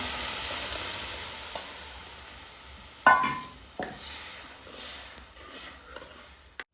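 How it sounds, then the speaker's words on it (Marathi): Cooked dal is poured into a hot sizzling tempering in a pan, with a steady frying hiss and sharp clatters and scrapes as it is stirred. "त्याच्यामध्ये आता डाळ ओतून घ्यायची आहे शिजलेली"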